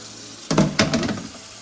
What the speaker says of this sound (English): I'm going to rinse my hands so I'm touching all this meat.